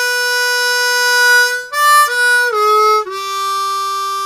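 A harmonica plays a short phrase of several draw notes, one draw 3 bent down a whole step, giving clear sustained tones with brief breaks between notes, close and alone.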